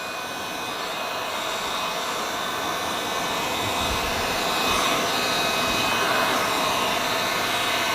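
A heat gun blows steadily over tint film on a car tail light, a constant close whooshing hiss that grows slightly louder midway and holds without break.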